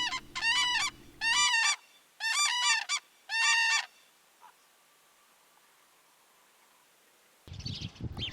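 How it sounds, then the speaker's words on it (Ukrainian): A crane gives loud, honking trumpet calls in four or five close bursts, then falls silent apart from a faint chirp and a low hum before other noise cuts in at the end. "журавель."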